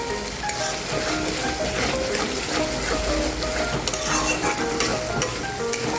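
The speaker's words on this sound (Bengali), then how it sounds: "হালকা ফ্লেমে এটাকে হালকা একটু লালচে ভাব হবে, ভালো করে নাড়াতে হবে পোস্ত দেওয়ার পর।" Poppy seed paste for doi katla fish sizzles in a kadai over a low flame, with continuous close frying crackle and repeated spatula stirring scrapes against the pan.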